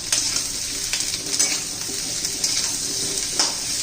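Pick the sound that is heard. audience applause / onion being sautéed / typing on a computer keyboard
onion being sautéed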